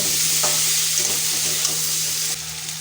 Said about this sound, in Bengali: আর কিছুক্ষণ একটু ভালো করে কষিয়ে নেব মশলাটা